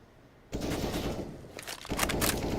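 Gunfire from a French rifle in a professional Counter-Strike match: after a short quiet lead-in, a sudden loud burst of rapid automatic shots, then a second volley of sharp cracks near the end.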